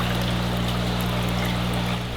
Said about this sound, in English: you might want to fill it up with some water first